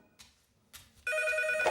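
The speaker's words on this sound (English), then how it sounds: "And then the phone rang." A telephone bell rings out loud and sustained in the last half, preceded by two short muffled noises, heard in a tense moment during a mansion murder investigation in the gated Westover Hills community of Texas.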